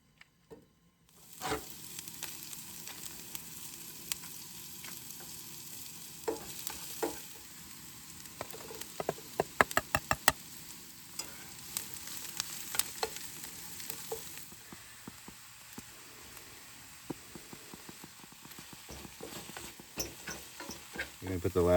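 Chopped white onion and a green onion sauté in butter in a pan at a car camping site, with a soft, steady sizzle and irregular scraping and clinking from stirring over about twenty seconds, fairly faint and close.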